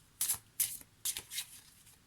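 Tarot cards shuffled by hand, three or four short crisp riffling bursts at close range, heard alone in a quiet room.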